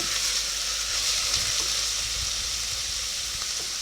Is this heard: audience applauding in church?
no